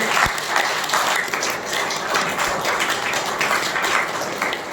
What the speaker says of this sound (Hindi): तो कृष्ण जी और महावीर स्वामी के लिए जोरदार तालियां होनी चाहिए, जोर से।